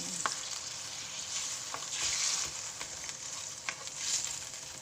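Pork cubes being stirred to dissolve in a pan for pork pata kare-kare, giving a steady soft sizzle with light scraping strokes, continuous and close, with no talking.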